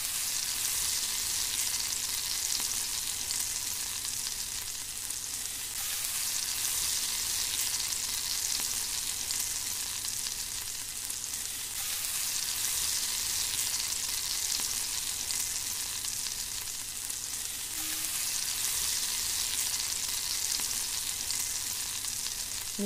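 Ginger-garlic paste sizzles in a pressure cooker as the base for chicken biryani, a steady broadband frying hiss lasting the whole stretch with slight surges, close and fairly loud, with no talking.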